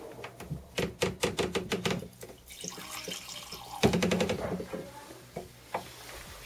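Homebrew beer being poured out of a fermenter, with liquid splashing and trickling in a run of close, uneven bursts, a brief pause, then another surge of pouring that tapers into drips.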